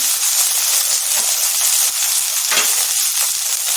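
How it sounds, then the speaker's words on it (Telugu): Okra pieces frying in leftover hot oil after potatoes, a steady loud sizzle and hiss with brief stirring scrapes, no voices. "ఇదే ఆయిల్ ఉంది కదా కొంచెం ఇందులో బెండకాయ ముక్కలను వేసేసుకోవాలి"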